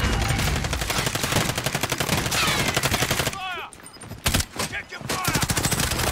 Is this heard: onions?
no